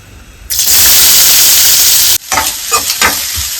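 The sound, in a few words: onions frying in oil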